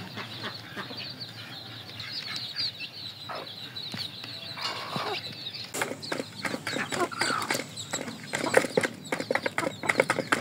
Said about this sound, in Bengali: আমার দেশি মুরগি আদার খাইতেছে